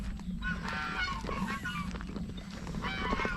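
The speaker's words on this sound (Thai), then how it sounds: "ยังมี เด็กๆมีห่านนะฮะที่เขาเลี้ยงไว้นะฮะ" Domestic geese kept at a rural Nakhon Nayok property honk repeatedly in a noisy, overlapping chorus that carries on steadily throughout, fairly close and with no talking.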